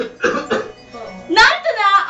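A person coughs in a cough syrup radio advertisement, two quick bursts near the start, followed by a talking voice.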